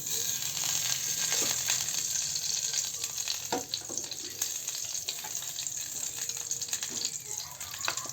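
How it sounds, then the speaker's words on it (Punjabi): Desi ghee heating in a pan for sweet rice, a steady close sizzle and crackle running throughout with a few scattered light clicks and stirring knocks, no one talking. "ਆਪਾਂ ਦੇਸੀ ਘਿਓ ਪਾ ਲਿਆ ਘਿਓ ਨੂੰ ਆਪਾਂ ਗਰਮ ਹੋਣ ਦਿੰਨੇ ਆ"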